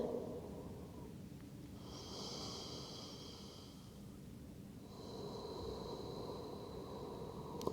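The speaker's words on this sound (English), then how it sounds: "This type of breathing is called Ujjayi breath." Slow, audible breaths drawn in and out through the nose, a soft rushing hiss on each inhale and exhale, close and steady with no talking.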